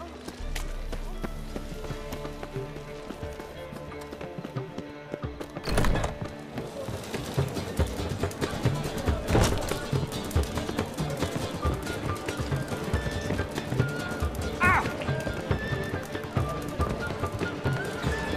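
Roach the horse gallops in The Witcher 3, with steady rhythmic hoofbeats close by and a snort or whinny along the way, over game music and a man's speech.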